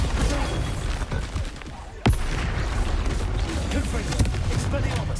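A Bombarda blasting spell explodes in a Harry Potter video game, one sharp loud crack landing mid-clip amid a continuous rumbling din of battle noise, with voices and other spell effects layered underneath.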